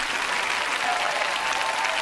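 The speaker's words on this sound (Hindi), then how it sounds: "अच्छा होगा आप अधिक तालियां बजाएं," Audience applause at a Christian teaching event, a dense, steady wash of clapping filling the whole stretch with no talk over it.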